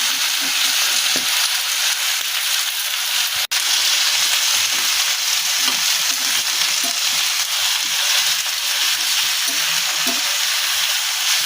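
Sliced eggplant with turmeric stir-fried in hot oil, a loud, steady sizzle lasting throughout with one sharp clack of a spatula partway through and no talk.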